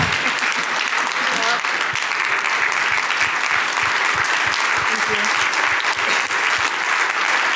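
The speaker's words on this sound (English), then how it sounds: "one more round of applause" An audience at a talk applauds in a sustained, even wash of clapping, full and close, with voices murmuring faintly underneath as it continues.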